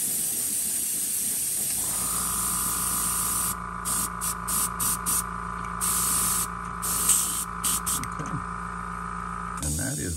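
Clear coat in high gloss sprayed onto a custom-painted transparent ghost crappie fishing lure, a steady close airbrush hiss running for most of the clip with short bursts and pauses in the upper spray, over a constant background hum.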